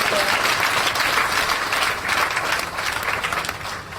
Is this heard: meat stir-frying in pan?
no